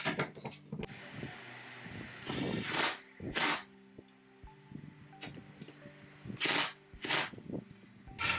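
Legs of a Flexispot sit-stand desk are screwed on, with intermittent close rasping and grinding bursts, metallic clicks and handling clatter separated by short pauses.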